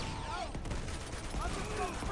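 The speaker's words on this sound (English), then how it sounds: "Unload an AK into his head." AK rifle fire in Uncharted 2: Among Thieves, rapid bursts of gunshots mixed with whooshing game effects and a faint voice, moderately loud and continuous over a couple of seconds.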